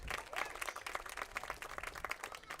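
Crowd applause at a high school 5A area playoff baseball game, a steady wash of many hands clapping for a couple of seconds, moderately loud and fairly near, with no talk over it.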